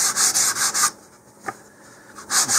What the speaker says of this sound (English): And here I'm still using the 150 grit medium sandpaper.